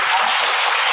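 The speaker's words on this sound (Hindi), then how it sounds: "जरा तालियों से इस्तकबाल" A crowd applauds to welcome the chief guest at a school event, loud and dense clapping filling the whole short moment.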